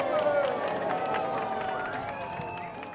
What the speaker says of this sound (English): the passengers applauded and expressed their appreciation